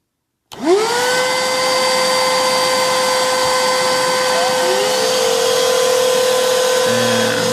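Several Black+Decker BDH2000PL Max lithium 20-volt pivot handheld vacuums switch on together after a moment of silence, then hold a loud, steady whirring whine with a slight pitch shift partway through.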